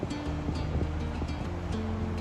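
Ocean waves curl and break on a beach in a steady, rushing wash of surf, with wind buffeting the microphone throughout.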